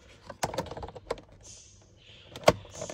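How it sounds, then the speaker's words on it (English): Plastic steering wheel trim on a VW Sharan / Seat Alhambra 7N clicks into place, several sharp separate snaps with quieter handling rattles between them. "It clicks in there, you see it, and then clicks in the front."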